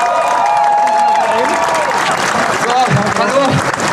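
An outdoor crowd at a street demonstration in Cologne applauds and cheers, loud and continuous, with voices and shouts mixed through the clapping.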